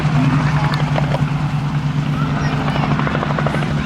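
A Bell 47 helicopter flies at the Midlands Air Festival, making a steady, loud rotor and engine drone with a low, pulsing beat that continues without a break.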